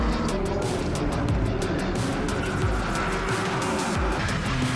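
BMW race cars racing at Circuit Zandvoort during the Dutch Racing Trophy, a continuous loud engine roar with shifting pitch as cars speed past.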